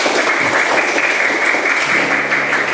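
Classroom of students applauds a student group after their presentation, a steady dense wash of clapping sustained throughout, fairly loud and close, with no talk over it.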